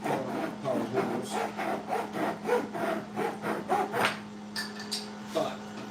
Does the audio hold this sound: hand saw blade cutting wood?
yes